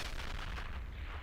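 Mortar fire in Company of Heroes (Robz Mod), a single heavy, broad boom with a rumbling tail, loud and filling the whole brief moment.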